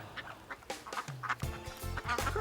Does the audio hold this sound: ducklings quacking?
yes